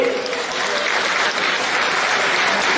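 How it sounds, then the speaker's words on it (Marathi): Loud, sustained applause from a large crowd at a political birthday felicitation rally in Maharashtra, with dense steady clapping filling the whole stretch. "एका जोरदार टाळ्या झाल्या पाहिजे"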